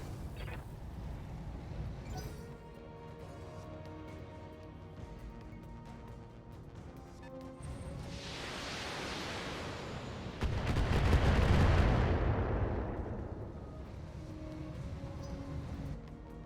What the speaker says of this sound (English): We'll just put some SRMs into this. Firing on rear arc.